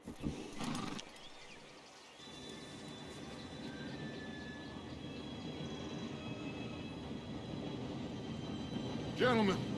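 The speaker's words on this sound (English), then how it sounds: "Train should be here any minute now" Steady rumble of an approaching train in Red Dead Redemption 2, rolling in low and constant with faint metallic squeals, building gradually and swelling louder near the end, with brief voice-like sounds at the start and close.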